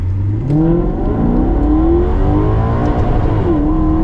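A heavy Maserati GranTurismo MC Sport Line revs up hard through the gears, its loud, close engine note climbing and dropping at each shift, with the rev limiter hit along the way.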